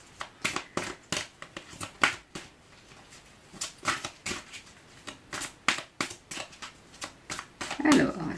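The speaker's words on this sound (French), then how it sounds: "il y a trop de cartes qui tombent" Tarot cards are shuffled in a run of crisp, fast riffling bursts, each a quick papery flutter, with brief pauses between and a soft voice murmuring near the end.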